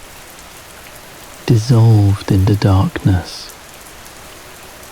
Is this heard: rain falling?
yes